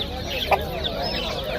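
Roosters and chickens cluck at a busy poultry bazaar, with a short sharp cluck standing out against a constant murmur of birds and distant market chatter.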